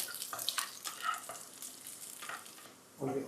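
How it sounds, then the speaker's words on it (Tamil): Sliced garlic fries in oil with a soft, steady crackling sizzle, broken by scraping stirs. A louder burst of stirring comes near the end. The sound is close and quiet, with no talking. "இந்த ஸ்லைஸ் பண்ண பூண்டு முதல்ல சேர்த்துக்கிறோம். கொஞ்சம் கலர் வரட்டும்."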